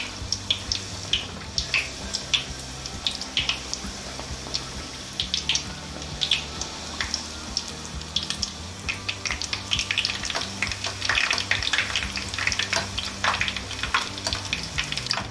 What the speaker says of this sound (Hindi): पूरी को डालने के बाद इसको थोड़ा सा नीचे की तरफ दबाएंगे।